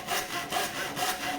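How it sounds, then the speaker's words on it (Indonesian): An 18-inch Jet Cut Hasston Prohex handsaw with three-sided teeth cuts bamboo in loud, close, rhythmic rasping strokes, about four even back-and-forth pulls with no talk. "Gergaji ini kalau dipakai buat motong bambu sih ya, agak kegelincir dikit pada saat awalnya"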